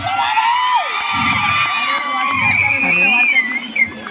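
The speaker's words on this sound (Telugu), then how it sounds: "ఒకసారి గట్టిగా క్లాప్స్ కొట్టండి పవన్ కుమార్ సార్కి." A crowd of students cheers, whoops and shouts loudly and without pause at a Ganesh Utsav cultural stage event at RGUKT RK Valley; children's high yells rise above the dense roar.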